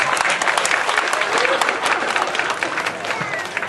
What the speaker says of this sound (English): Give a big round of applause, please, for our wonderful U.S. Marine Corps